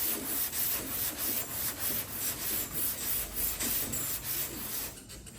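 Guide coat on auto body filler or primer is block sanded in a cross pattern, giving rhythmic back-and-forth rubbing strokes that are close and steady, ending in a brief pause.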